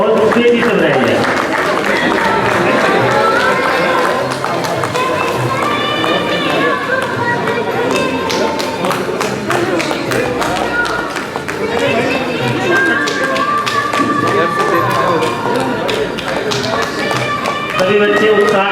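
An audience at an Independence Day celebration in a Central Bank of India zonal office claps steadily and densely, with lively chatter and voices mixed in throughout.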